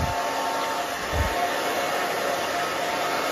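A hair dryer blows steadily close up while hair is styled with a round brush, a continuous airy whoosh running through the whole stretch with no talking.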